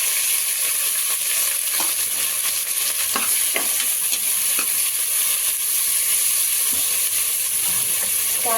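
Spices with chopped onion and green chillies frying in hot oil in a pan, a loud, constant crackling sizzle with a few scattered stirring clicks, continuous throughout and without any talk.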